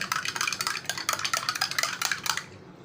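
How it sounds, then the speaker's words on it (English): A metal spoon clinks and scrapes against a container while stirring salt into water, a rapid, close series of bright taps and rattles that stops abruptly near the end. "I am adding half spoon of salt more"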